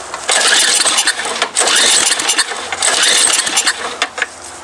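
An MTD Yard Machine snow blower engine cranks and sputters to life in loud, close bursts, its rough running rising and dipping with uneven surges.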